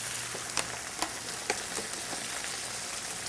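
Spinach cooks down in a pan with a soft, steady sizzle and occasional small pops and crackles, fairly faint and close, with no talking.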